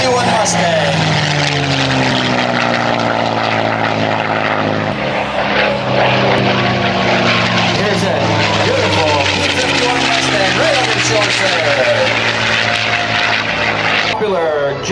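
A P-51 Mustang propeller warbird flies at the 2004 Bellingham, Washington airshow, its loud, steady piston-engine drone filling the whole stretch with a slowly shifting pitch as it passes near.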